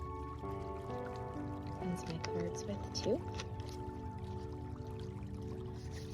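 Florida water poured onto hands during a reiki energy-clearing session, a soft, brief liquid splash that sits under steady close-up talking.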